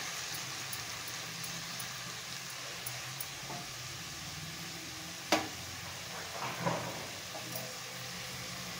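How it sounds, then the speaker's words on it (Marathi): Spices and ginger-garlic paste sautéing in a hot pan, a soft steady sizzle with a few clinks of a stirring spoon. "हे सगळे मसाले छान आता परतून घ्यायचे आपल्याला"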